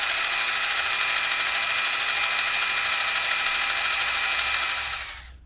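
A power drill bores into an old metal casting, running as a loud, continuous high whine with a grinding edge before spinning down abruptly at the end.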